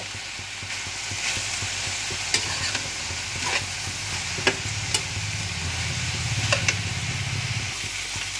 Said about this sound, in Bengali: হলুদ গুঁড়োটাও মিক্স করে নিয়ে সিম আর আলু ভালোভাবে ভেজে নেব।